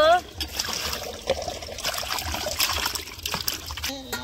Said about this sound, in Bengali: মাছ আমি এরকম করে জল দিয়ে পরিষ্কার করে ধুয়ে নিব।